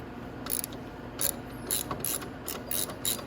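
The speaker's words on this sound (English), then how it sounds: "you're going to need a 14 mil socket and a 14 mil wrench. So I'm going to just loosen this" Ratchet with a 14 mm socket loosening the rear shock nut on a Venom X18 automatic motorcycle: a quiet, close series of short rhythmic clicking ratchet strokes, about five bursts in a few seconds.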